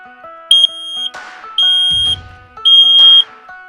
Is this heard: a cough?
no